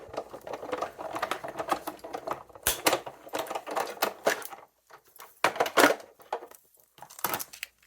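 A die cutting machine running a card through makes a series of close, irregular mechanical clicks and rattling bursts with brief pauses between them.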